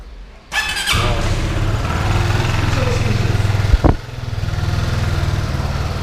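A Joymax Z motorcycle engine cranks and catches after an oil change, then settles into a steady low idle with a brief sharp rev partway through, loud and close.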